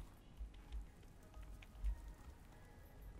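Hail falls in the video game Subnautica Below Zero, a quiet, scattered patter of soft impacts with a few heavier thuds.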